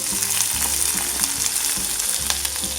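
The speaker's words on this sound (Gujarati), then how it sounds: "આ રીતે જીરું થોડું ઉપર આવી જાય એટલે તેમાં મરચાંના ટુકડા નાખીશું" Cumin seeds and chilli pieces frying in hot oil in a kadai, a steady close crackling sizzle with a few light stirring scrapes, no voices.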